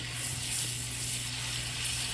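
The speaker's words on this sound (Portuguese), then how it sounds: "Eu pego uma medida de alho, mais ou menos, para temperar aquela vagem, e eu frito ela na manteiga" Garlic frying in butter in a pan, cooked as seasoning for green beans for a Thanksgiving dinner, gives a steady, close sizzling hiss that runs without a break and with no voices.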